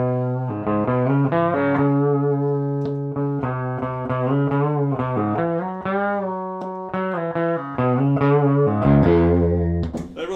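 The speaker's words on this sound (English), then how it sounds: "also this Fuzzlord reverb pedal" Electric guitar played through a Fuzzlord reverb pedal, a run of fuzzy, sustained notes and chords with swelling tails that carry on steadily throughout.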